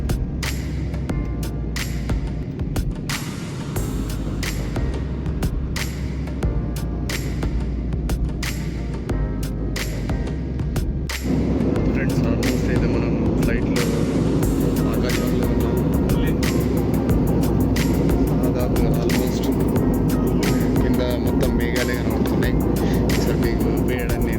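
Steady, loud roar of a passenger airplane cabin in flight from Nepal to Delhi, a constant broadband engine and air rush that thickens and grows louder partway through, with faint clicks and rustles nearby.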